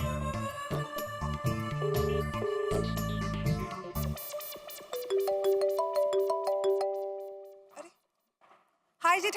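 A phone's ringtone plays during an outgoing call, its tonal musical jingle ringing out clearly after some background music, with voices talking in Hindi around it.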